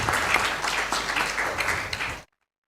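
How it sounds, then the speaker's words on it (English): Audience applauding at a corporate anniversary celebration for a non-IT team, steady dense clapping from a crowd that stops abruptly, leaving silence. "Give a good round of applause for Ankita and her team."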